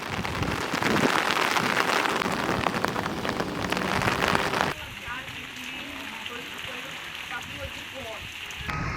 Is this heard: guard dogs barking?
no